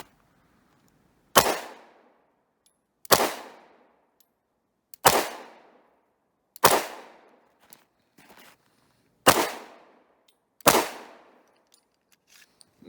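A Romanian TTC Tokarev pistol fires 7.62x25mm rounds outdoors at a range: six sharp, loud shots spaced one to two seconds apart, each cracking and trailing off in a short echo, with quiet between.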